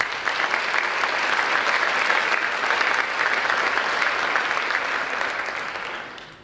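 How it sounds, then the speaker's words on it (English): An audience at the Fargo State of the Schools address gives the school board a round of applause: dense, steady, loud clapping that holds for several seconds before tapering off at the end. "So if we can give our board a round of applause"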